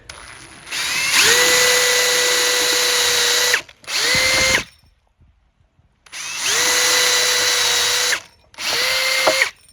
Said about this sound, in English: we're going to use this to drill the hole and also drill out enough of the timber for the head to sit in